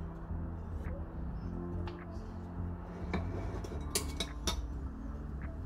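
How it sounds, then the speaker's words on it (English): Knife and cutlery clinking against a plate while a cooked steak is sliced, with a few sharp metallic ticks and taps over a low kitchen hum, close and fairly quiet. "first I need to slice the steak"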